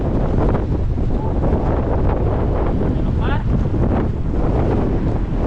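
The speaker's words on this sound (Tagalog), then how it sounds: "Malakas ang hangin eh." Strong wind buffets the microphone in a steady, roaring rumble throughout, with a person speaking briefly over it.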